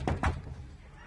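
Two dull thuds close together as a locked school classroom door is tried and rattled, fairly near, followed by quiet room tone.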